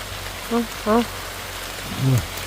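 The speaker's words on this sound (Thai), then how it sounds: "ฝนมาแล้ว" Steady rain falls across the whole stretch as a continuous broadband hiss outdoors in a wild cassava-digging spot, with short voices talking over it now and then.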